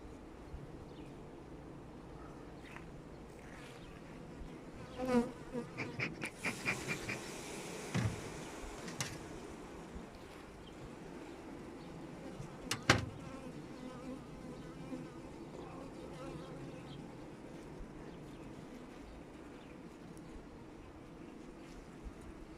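Honey bees buzz steadily around an open hive with fresh white comb full of citrus honey, a dense continuous drone with a few louder passes close by, no talk.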